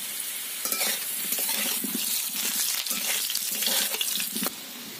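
Potatoes frying in a pan, lightly salted, for chicken do pyaza: a steady, close sizzle with repeated scraping and stirring strokes throughout, with no voices.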